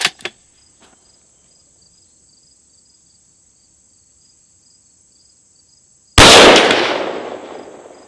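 Rifle shot from a .308 Win firing Hornady Superformance Match 178 gr BTHP ammunition, one sharp loud blast with a decaying tail near the end, after a faint click at the start and a steady high electronic tone.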